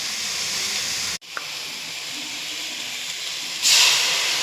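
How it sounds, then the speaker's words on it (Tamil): Tamarind water poured into a hot pan of sautéed onion, tomato and garlic, giving a loud steady hiss that drops out abruptly for a moment, then returns and surges louder near the end. "இப்போ தக்காளியும் வெங்காயம் நல்லா வதங்கிட்டு புளி கரைசல் ஊற்றிக்கிடலாம்."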